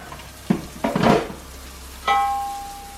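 Salmon being flipped with a spatula in a hot frying pan: a few close clatters and scrapes of the utensil, then a fresh burst of sizzling that slowly fades.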